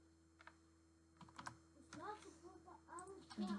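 Rapid keyboard typing as a message is entered, clicks coming in quick uneven bursts close by, with a voice sounding faintly in the background.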